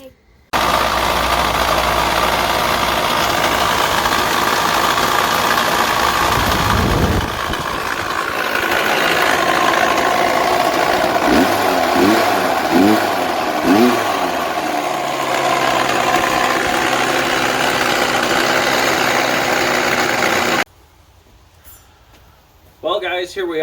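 A Kawasaki KX80 two-stroke dirt bike engine runs at a steady idle, with a few quick throttle blips in the middle, then cuts out near the end; a voice speaks briefly under the engine noise.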